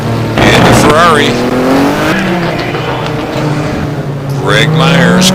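Several GT1 race cars circle Estoril in a sim racing game, their engines whining and rising in pitch through gear changes and passes, loud and continuous beneath a commentator talking throughout.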